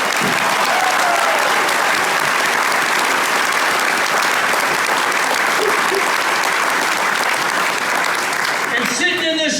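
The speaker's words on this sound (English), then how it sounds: "Let's give them a round of applause." An audience at a family homestead gathering gives sustained, dense applause that stays loud throughout the clip before tapering at the very end.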